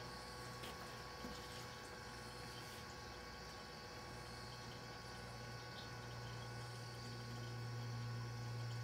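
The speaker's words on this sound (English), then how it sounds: "So I'm gonna go ahead, start the pump." An electric fuel pump runs steadily while refueling a Kubota BX1850 compact tractor, a continuous low hum with a faint liquid wash, steady and unbroken throughout with no talking.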